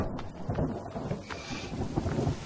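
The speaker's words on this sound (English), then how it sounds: "Thunder!" Thunder rumbles in the video game The Forest, a low rolling boom mixed with steady rain that lasts the whole stretch, with a brighter crack partway through.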